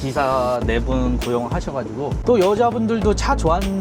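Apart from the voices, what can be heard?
No everyday noises stand out.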